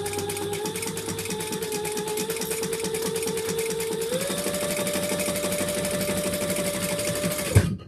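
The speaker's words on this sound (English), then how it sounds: "Just basting the rest of it down." A sewing machine bastes fabric for a sling pack with a steady, fast mechanical whir and rapid needle clatter. It runs loud and close, shifts to a slightly higher speed midway, then stops abruptly near the end.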